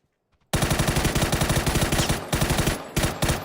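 Rapid automatic gunfire from a rifle in the battle royale game PUBG, a loud sustained burst of closely spaced shots that starts abruptly after a brief silence and runs with only short breaks.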